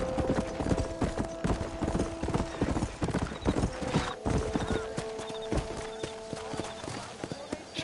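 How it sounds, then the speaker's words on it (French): Horses in the video game Red Dead Redemption gallop with dense, busy clip-clop hoofbeats and occasional whinnies, loud and continuous alongside game ambience and tonal music. "Je sais pas pourquoi il y a tous ces chevaux devant chez moi."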